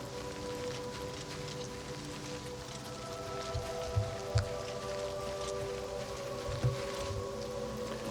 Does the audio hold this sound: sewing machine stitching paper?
no